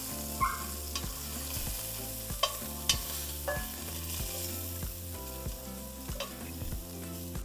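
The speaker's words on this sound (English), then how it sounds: "we're going to flip our meat over and sear that side for another 2 minutes" Chunks of meat sear in a pot for chile verde, giving a steady close sizzle with a few sharper spits and utensil knocks over a quiet tonal background.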